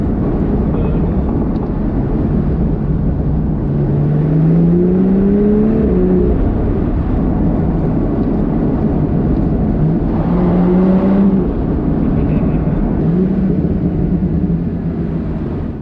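A Morgan Super 3 three-wheeler drives past with its engine note rising and falling through gear changes, a steady loud road and wind roar underneath, no talk.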